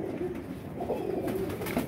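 Pigeons kept by a hobbyist pigeon fancier coo in soft, low, continuous murmuring, fairly close, with no talk over them.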